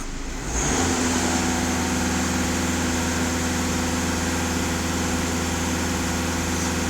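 A VW Caddy 2.0 TDI diesel engine rising quickly from idle and then holding a steady raised speed of about 2500 rpm, a loud, even drone with no talking.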